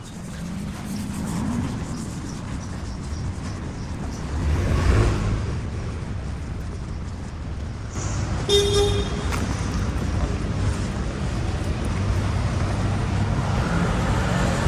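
Busy street traffic in Lebanon rumbles continuously around a car, with several car horns honking nearby, including one sharp toot in the middle, under a dense, steady roadway roar.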